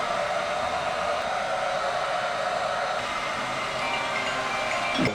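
A hair dryer fitted with a diffuser blows as a steady, loud, broadband whoosh that holds evenly throughout without pauses.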